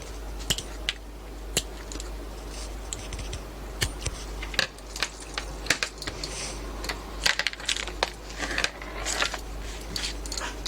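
Scissors snip through a small paper embellishment in a crafting session, giving a series of sharp, close clicks and snips scattered irregularly across the clip with quiet handling noise between them.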